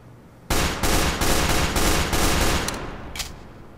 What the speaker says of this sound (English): He's also got my favourite pistol. I love this pistol. It sounds amazing.